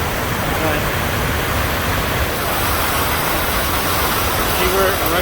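River water rushes through a rocky gorge near Girdwood, Alaska, a steady, loud broadband roar filling the whole stretch, with a voice talking faintly underneath.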